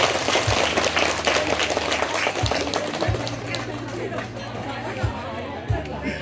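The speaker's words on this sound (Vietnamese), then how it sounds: "đề nghị chúng ta nhiệt liệt chào đón bằng những tràng pháo tay thật rộn ràng." Lively crowd applause mixed with chatter at a Vietnamese longevity celebration for an elderly woman, with steady low electronic tones running beneath the clapping and murmuring voices.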